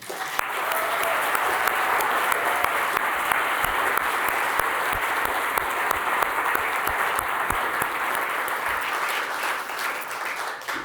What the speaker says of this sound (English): ask for a big round of applause just for all of the fellows again